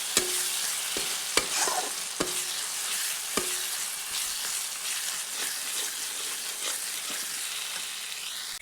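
Spice masala with coriander powder and salt sautés in a pan for matar paneer, giving a bright, continuous sizzle broken by sharp taps and scrapes of a stirring spoon.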